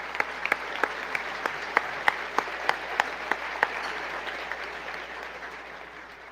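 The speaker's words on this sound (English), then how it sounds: "Let's give them another big round of applause as they leave." Scattered applause for the event staff at a grand tasting, heard as a few distinct hand claps over a steady room background, with the claps thinning out toward the end.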